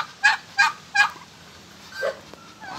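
Turkeys gobble in three quick bursts on a farm, followed by softer honks and calls from ducks and geese nearby.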